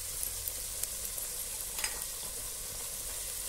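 A stone-ground paste of onion, garlic, ginger, fresh coconut and whole spices roasts in oil for Kolhapuri masala, with a soft, even sizzle and a few faint stirring clicks.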